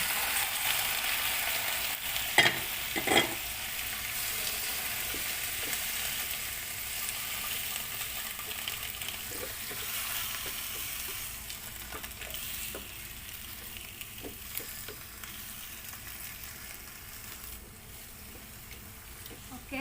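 Marinated pork and chicken for Filipino adobo sautéing in a pan, a steady broadband sizzle that runs throughout with a few sharper crackles and pops early on, close and fairly even in level, with no talking.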